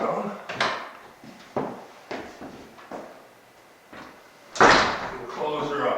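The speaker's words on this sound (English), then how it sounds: "And close her up. They're good, heavy-duty Douglas fir doors with the cast bronze hardware." Heavy-duty Douglas fir double doors with cast bronze hardware swing shut in a New Mexico home, giving a series of wooden knocks and clunks that end in a louder, solid closing thud, with voices faintly under the sounds.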